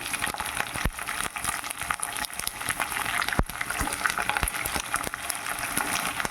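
Green chilies, garlic and curry leaves fry in hot oil with a loud, busy crackle and sharp spitting pops throughout.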